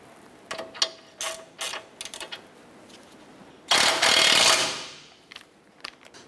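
A ratchet wrench snugs down the outer tie rod nut on a 2008-2012 Honda Accord, with a few sharp clicks, then a longer burst of rapid ratcheting, then scattered taps, all close by.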